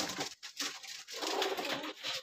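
Domestic black-border pigeons kept in a loft for sale coo continuously, with close, dense, breathy calls over a noisy background.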